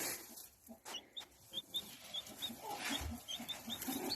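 A lone young chick peeps in short, high, regular chirps, fairly close, with a few soft clucks and faint rustling underneath and no voices.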